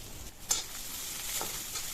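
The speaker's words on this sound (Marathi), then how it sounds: "तेलात चांगलं लसूण मिरची परतून घेऊया आपण," Chopped garlic and green chilies sizzle in hot oil in a kadhai, a steady close frying hiss broken by a few stirring scrapes.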